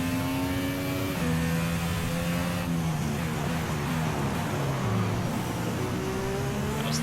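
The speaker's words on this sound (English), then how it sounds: "That was the sound of the engine imploding." Formula 1 race car engine in the F1 2016 video game, a steady high whine with falling pitch as the failing engine winds down, continuous and fairly loud.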